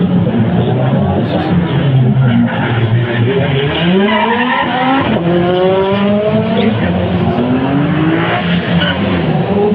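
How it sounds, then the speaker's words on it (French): A Renault 5 Turbo race car at the Circuit des Remparts, engine loud and close, revving up and down through gear changes with rising and falling pitch sweeps and some tire noise, no talk. "la Renault 5 Turbo, Jean-Claude André, Jean-Claude André"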